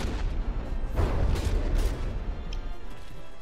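Naval gun shells fire and burst in From the Depths, a battleship combat game, as a rolling series of deep booms and blasts over a few seconds, loud with no voices.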